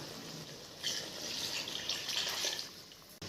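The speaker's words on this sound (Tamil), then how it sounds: "இப்போ அந்த தண்ணி எடுத்து நம்ம ஊற்றிக்கலாம்." Water pours into a pot of mutton for biryani in a quiet splashing stream for a couple of seconds, then stops.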